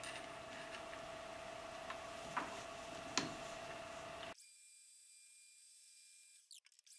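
A lathe machines down HSS boring bar stock for a boring head, giving steady mechanical whirring and ticking with a couple of brief sharper bursts before it cuts off abruptly about two-thirds of the way through, leaving near silence.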